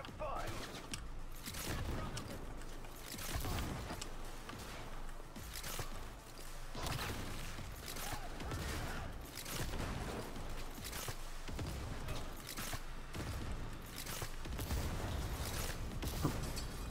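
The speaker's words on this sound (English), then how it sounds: "These explosions, I don't think are me." Bursts of blasts and crashes keep erupting in a busy Cyberpunk 2077 game soundscape, loud and dense throughout, with occasional talk underneath.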